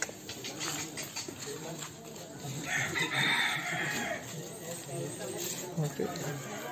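A gamecock crows loudly nearby while its gaff is being tied, the crow rising clearly over other roosters calling in the background, and people talk throughout.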